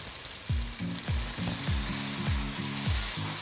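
Paneer is mashed with a masher in a hot, sizzling pan for paneer bhurji, with steady frying hiss under a regular series of rhythmic scraping, pressing strokes, close and fairly loud.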